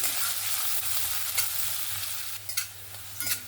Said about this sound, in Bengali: পেঁয়াজটাকে সুন্দর লাল লাল করে ভেজে নেব।